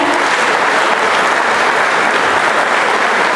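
Dense, steady applause from an audience at a Slovenian People's Party youth event, loud and continuous with no voices over it.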